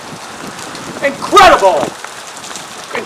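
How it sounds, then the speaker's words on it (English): Steady rain and wind from Hurricane Irene in upstate New York hiss in the background while someone speaks briefly in the middle. "we've had wind gusts here breaking 49 miles per hour gusts at times."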